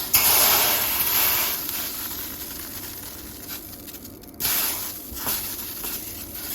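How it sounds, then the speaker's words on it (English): Water drops sizzling and hissing on a hot pan heated for buttermilk pancakes, a steady broadband sizzle close by with a brief dip in the middle before it flares up again, no talking. "She's not ready. She's not ready. She's sizzling. See this dancing?"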